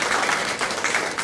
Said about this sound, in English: we want to give them a round of applause for a job well done